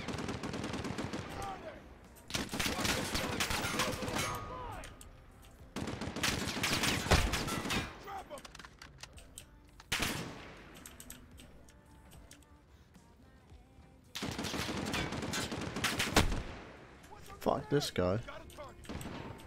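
Loud bursts of machine gun fire in a Call of Duty: Modern Warfare campaign battle, several long rattling volleys separated by brief lulls, with a voice heard between them.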